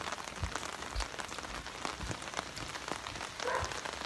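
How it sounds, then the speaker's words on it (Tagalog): Steady rain falls on surfaces outdoors at a safe, clean seaside-type venue, a soft continuous hiss with scattered louder drops throughout, moderately faint and with no talk over it. "Maulan talaga."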